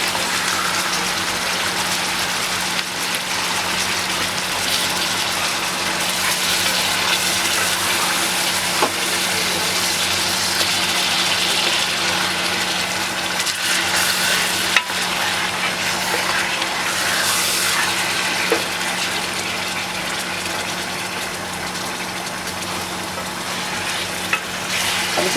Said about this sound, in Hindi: इसका कलर चेंज होने तक इसको फ्राई करेंगे।